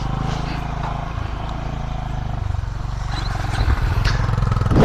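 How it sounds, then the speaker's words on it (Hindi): A Honda Highness motorcycle engine on a hill road near Mukteshwar, Uttarakhand, runs with a steady low thumping idle that grows louder and rougher toward the end, with faint clatter over it. "अपनी होंडा हाइनेस स्टार्ट।"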